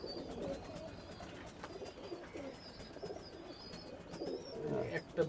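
KTM bloodline pigeons coo softly while being handled, several low throaty coos rising and falling in irregular bursts, close by, with faint rustling of handling and a brief louder flutter near the end.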